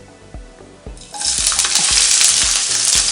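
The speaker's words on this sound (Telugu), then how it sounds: "ఆనియన్స్ వేసి బాగా ఫ్రై చేసుకుంటున్నాను" Onions frying in a generous amount of oil in a pan for a spinach chicken curry, a loud steady sizzle that bursts in about a second in and holds, with soft knocks and stirring clatter underneath.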